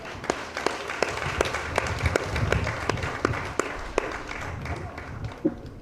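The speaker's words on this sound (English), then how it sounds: "we need to give them a round of applause" Audience applause at a steel orchestra graduation ceremony, a dense wash of clapping from a crowd with sharp individual claps popping out, steady and fairly close throughout.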